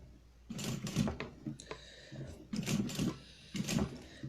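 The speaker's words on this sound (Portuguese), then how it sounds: "vou costurar o meu vivo aqui" A sewing machine stitching piping onto a women's waist bag, three close bursts of fast mechanical whirring separated by short pauses, with no talk.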